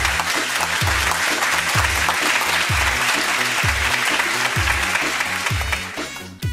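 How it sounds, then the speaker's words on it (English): A church congregation breaks into steady, loud applause in praise of God, with a rhythmic pulse of music or stomping underneath, fading abruptly at the end. "Let's give God another big round of applause."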